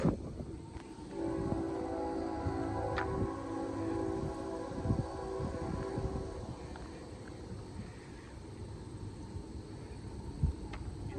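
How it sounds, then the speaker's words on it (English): A long Canadian Pacific freight train with locomotives rumbles past close by, a steady heavy roar with clanking wheels and a brief horn-like tone, continuing throughout. "The first CP train we saw was CP-113 that goes from Montreal to Coquitlam, BC"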